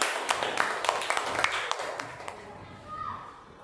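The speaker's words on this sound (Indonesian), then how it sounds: "beri tepuk tangan" Classroom clapping after an elementary science lesson, a series of sharp individual claps in a loose rhythm that thin out and fade after about two seconds, fairly quiet, with a voice briefly heard near the end.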